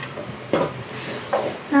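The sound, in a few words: stirring a curry in a pan while the water cooks off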